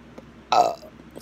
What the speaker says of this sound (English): She burped even louder.